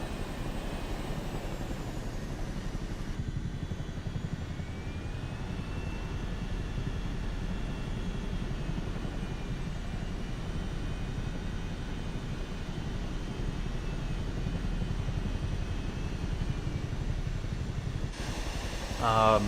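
An aircraft in flight in the video game Microsoft Flight Simulator 2024, a steady droning engine hum running throughout, with a voice talking over it.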